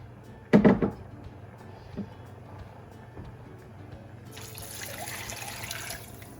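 Water pours into a pot for home-canned vegetable soup with frozen corn, a soft steady splashing stream that starts partway through after a sharp knock, quiet and close.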